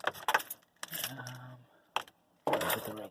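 Car keys jangle in short metallic bursts, close by, with quiet pauses between the shakes.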